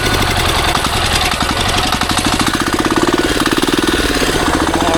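Turbo diesel racing go-kart with a large low-revving engine running loud and close, a steady rattling, pulsing chug with rapid mechanical knocking throughout.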